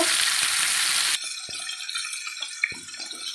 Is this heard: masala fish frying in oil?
yes